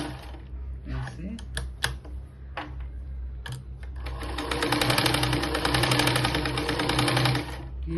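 A sewing machine stitches a belt blouse. A few separate clicks and handling knocks come first, then the motor runs in a steady, loud whirr for about three seconds before stopping.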